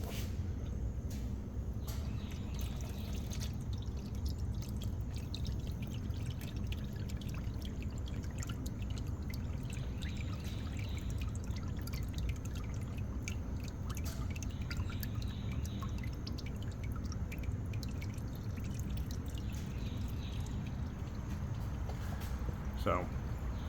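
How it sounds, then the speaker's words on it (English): Fluid drips and trickles steadily from a high-mileage van as it drains, a continuous wet patter up close with a voice talking over it throughout. "I'm just gonna let that drain."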